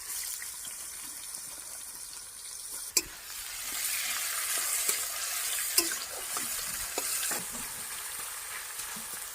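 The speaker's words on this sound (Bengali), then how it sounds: "তেল গরম হয়ে গেছে এবার গাজরগুলো চাপ দিয়ে দিলাম এর মধ্যে" Carrots frying in hot oil for village-style veg chowmein, a soft sizzle with occasional sharp spatula scrapes and clinks against the pan.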